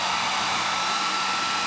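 A replacement hair dryer, weaker than the broken one it stands in for, blows a steady, even whoosh close by for the whole stretch, with no talking over it.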